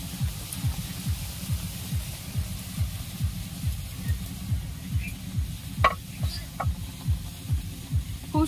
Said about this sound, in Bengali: এবারে লুচিগুলো ভেজে নেব।